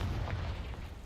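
A Confringo fire spell from the game Hogwarts Legacy bursts as a single deep, rumbling explosion that holds strong throughout the brief moment.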